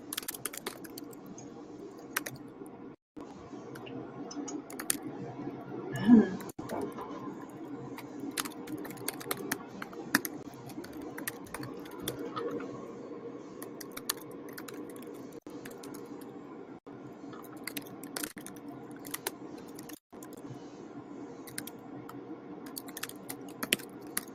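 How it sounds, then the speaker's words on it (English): Irregular clicks of computer keyboard typing tap away over a quiet background hum, in short uneven bursts with brief pauses. "I can hear Angela typing"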